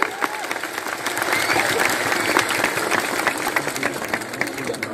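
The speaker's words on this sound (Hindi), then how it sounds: "बड़ा हाथ से ताली।" A large crowd claps at a political rally, a dense continuous patter of many hands heard from a moderate distance, with faint background noise mixed underneath.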